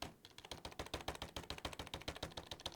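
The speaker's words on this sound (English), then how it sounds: "I'm putting the microphone right next to the keyboard just because I think it's funny." Rapid keystrokes on a computer keyboard right beside the microphone, a steady run of crisp, loud clicks with no talking.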